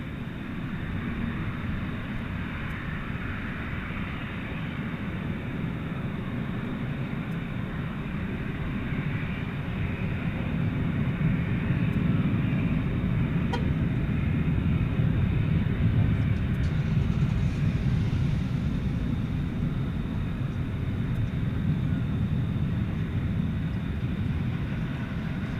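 Qantas Flight 8 bound for Sydney departs DFW Airport at night, a steady, sustained jet roar that swells slightly mid-clip and holds at a fairly constant distance, with no voices over it.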